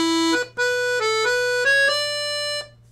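A short Irish jig phrase in E Dorian on a 72-bass accordion: clear reedy notes stepping up over a steady low drone, played alone at moderate volume.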